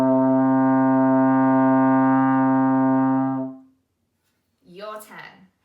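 A trombone sustains a single steady C in sixth position, a loud, even brass tone held for about three and a half seconds before fading, followed by a brief burst of speech.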